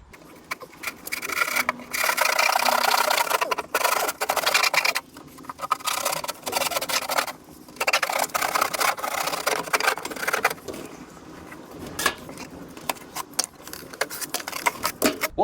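Drywall being chopped out with a hand tool to expose a stud and wiring, a steady run of loud scraping, rasping and crumbling strokes with brief pauses, close by and without talk.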